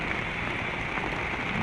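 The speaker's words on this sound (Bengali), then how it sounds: "আমরা রিক্সায় ঘুরতে বার হয়েছি, হঠাৎ করে বৃষ্টি চলে আসলো।" Rain falls steadily during a rickshaw ride, a dense, even hiss of drops with no distinct pauses and no voices.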